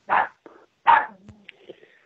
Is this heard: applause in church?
no